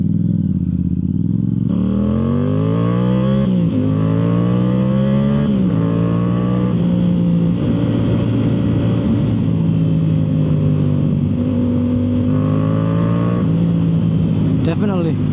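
A Yamaha YZF R7 with a Yoshimura full exhaust, its engine loud and close as it pulls through several rising accelerations with a gear shift between each, then settles into a steady drone near the end; a voice talks briefly over it.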